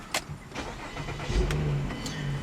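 A 2012 Mazda6 GT's 3.7 liter V6 cranks with a brief whir and catches, then settles into a steady, low, close idle rumble.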